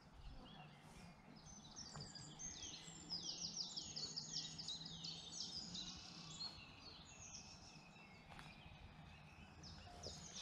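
Birds sing and chirp in repeated bright trilling phrases by a quiet wildlife pond, faint and somewhat distant over a soft background hush, with no talking.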